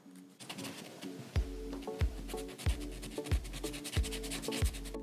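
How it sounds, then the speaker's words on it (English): Rubbing and sanding on the back of a handmade koi fish figure, a steady close scraping texture with about six rhythmic low thumps spaced under it, with no talk. "And I want to smooth this backside off."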